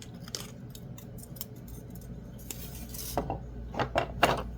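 Coiling wire for a wire wrap pendant is snipped with cutters, producing a few faint metallic clicks and snips close by in a quiet room, the sharpest near the end.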